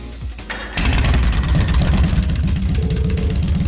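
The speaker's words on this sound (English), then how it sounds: "First is starting up the engine." A motorcycle engine starts up in the Trails of Cold Steel video game, a brief crank followed by a loud, steady rumbling idle with rapid low pulses, close and alone without talk.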